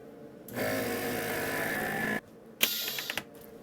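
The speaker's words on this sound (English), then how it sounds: "now I'm going to vacuum seal this" A vacuum sealer runs on a bag of black cherry soda ingredients, giving a steady mechanical drone for about two seconds. After a short pause come a few sharper clicks and whirring bursts as the seal finishes.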